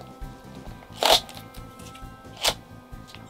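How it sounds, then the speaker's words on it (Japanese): Packaging being torn open on an F-toys Sukhoi Flanker family model kit, with two distinct crinkly rustles about a second apart over a faint steady background hum. "じゃあね、開封していきたいと思います。"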